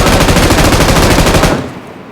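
Sustained rapid automatic gunfire in the mobile battle royale game PUBG Mobile, a loud continuous burst of shots that cuts off and leaves a fading tail.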